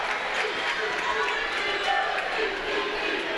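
A large crowd cheers and roars steadily at a high school basketball game between the FCA Knights and Danville in an OHSAA Division 4 regional, a dense, continuous wash of voices filling the gym.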